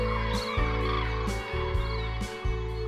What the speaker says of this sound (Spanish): siluetas de aves arropadas por sonoros trompeteos